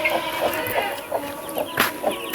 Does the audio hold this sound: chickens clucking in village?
yes